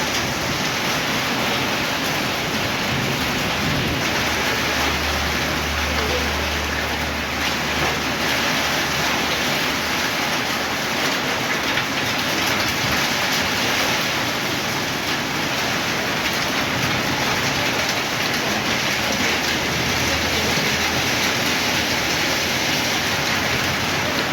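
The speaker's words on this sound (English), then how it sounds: "going to be rain very heavy right now here." Very heavy rain pours down in Kathmandu as a dense, constant roar of water lasting the full stretch, loud and close, with no talk heard.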